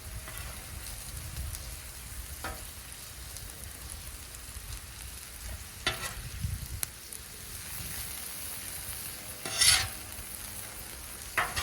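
Onions cooking on a 36-inch Blackstone griddle give a soft, steady sizzle with occasional sharp scrapes and clicks of a spatula, one louder crackling burst near the end, no talking.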